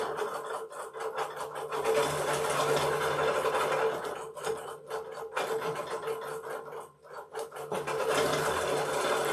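A home sewing machine stitches a row with a steady, continuous mechanical whir at close range, briefly pausing and restarting a few times along the way.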